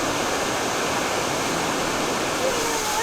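A waterfall in Mindo Valley, Ecuador, gives a constant, loud, broad rushing roar with no breaks, close by and steady throughout, with a faint voice-like tone briefly in the background.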